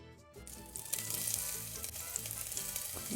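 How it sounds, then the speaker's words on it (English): Sliced white onion hitting smooth olive oil over medium heat, a quiet start that jumps into a continuous bright sizzle and crackle, close and steady, with no voices. "Add in 1/8 of a medium white onion sliced."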